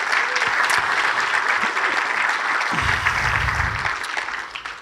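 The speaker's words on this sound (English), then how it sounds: "Let's give these three a round of applause." A Pickleball Hall of Fame 2019 induction ceremony audience gives a steady round of applause for three inductees, dense and continuous, tapering slightly at the end.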